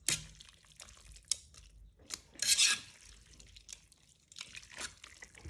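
Tongs mixing spaghetti bolognese in a Ninja Foodi pressure cooker pot, with soft wet stirring, metallic clinks and scrapes against the pot in irregular short bursts, fairly quiet.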